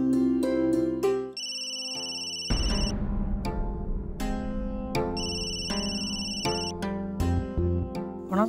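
A mobile phone plays a loud melodic ringtone indoors, bright repeating tones and chords with a short pause partway, ringing on alone without talk.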